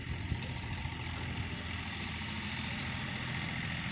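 An Eicher 485 tractor engine idles close by, a steady, low diesel rumble with an even chug that holds at a constant level, with no talk over it.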